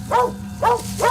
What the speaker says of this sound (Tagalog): Tahol ng mga aso dito oh.